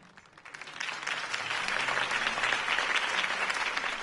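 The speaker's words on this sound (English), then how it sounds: "could have heard that applause" A large crowd in Batman: The Telltale Series bursts into applause, building from a few claps to sustained, dense clapping that fills the space.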